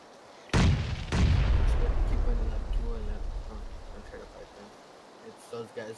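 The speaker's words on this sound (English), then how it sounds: "that lightning scared me. Or the thunder." Thunder in PlayerUnknown's Battlegrounds gives two loud booming cracks in quick succession, then a long rumbling roll that fades, with faint game sounds near the end.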